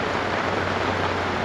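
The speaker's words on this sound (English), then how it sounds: "That is tropical downpour right there." Heavy tropical rain pouring down in Papua New Guinea, a dense, even, loud wash of rainfall with no pauses, close by.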